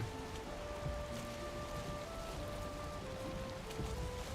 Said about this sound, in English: this rain just does not stop